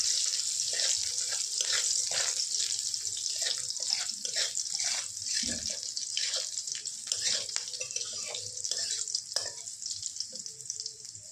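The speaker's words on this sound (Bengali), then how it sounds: "আর পেঁয়াজ। এটা একটু ফ্রাই হতে থাকুক।" Onion fries in a pan with a steady, fairly faint sizzle and hiss, broken by scattered small pops, soft clinks and a brief bump partway through.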